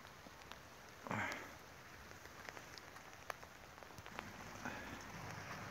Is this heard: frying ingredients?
no